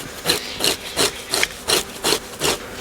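A deer hide being fleshed with a scraping tool, seven evenly spaced rasping strokes close up, loud and rhythmic, with no talking.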